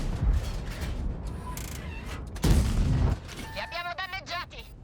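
A tank cannon fires in the video game World of Tanks: one heavy booming shot lands partway through, set among softer mechanical clanks and other game effects, with someone talking faintly in places.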